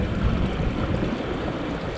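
Strong wind buffeting a Hobie Wave catamaran under sail, a steady loud roar of gusting air and microphone wind noise mixed with rushing water across the whole stretch, with no talking.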